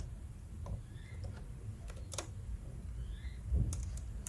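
Someone types code on a computer keyboard, producing quiet, sparse, irregular key taps over a low background hum.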